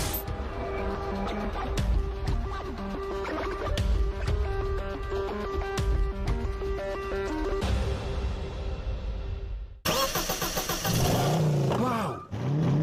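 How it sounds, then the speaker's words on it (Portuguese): An original V8 265 car engine revs hard near the end, a loud, rising roar that bursts in after a long stretch of music. "Motor V8 265. É tudo original."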